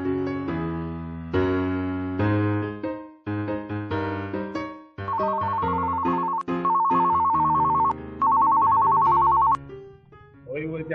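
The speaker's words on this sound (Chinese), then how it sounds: "你女儿打电话来，赶快来接电话哦。" A telephone rings in repeated bright electronic bursts, loud and close, with short pauses between rings and no voices over it.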